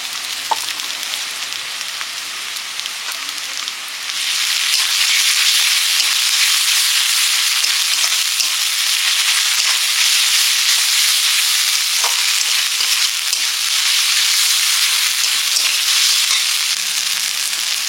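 Garlic paste, ginger and whole Kashmiri chillies fry in hot oil while cooking chicken curry, a loud continuous sizzle that jumps sharply louder a few seconds in and holds steady to the end.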